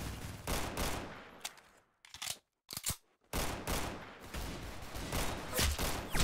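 Rapid automatic gunfire in the Roblox shooter Arsenal, loud dense bursts of repeated shots with two brief silent gaps midway before firing resumes steadily to the end.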